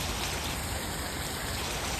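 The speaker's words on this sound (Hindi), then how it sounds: "कितनी तेज आ रही है बारिश," A downpour drenches a parked motorcycle outdoors, its heavy rain making a constant, loud, even wash of spattering drops with no voices or breaks.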